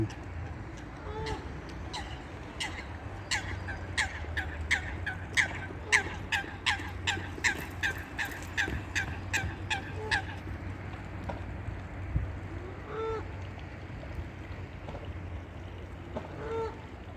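Waterfowl on a misty lake in France give a rapid series of honking calls that rise and then stop, over steady outdoor background noise, with a voice talking faintly in places.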